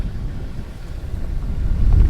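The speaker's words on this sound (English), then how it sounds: "but it's a bit windy" Wind blowing across open crater plains in the Serengeti, Tanzania, a steady low rumble of gusts buffeting the microphone that swells louder toward the end, with no voices.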